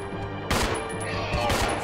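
Gunfire in the Resident Evil Zero HD Remaster video game: two loud, sharp bursts of shots about a second apart over a dense, busy game soundscape, with no talking.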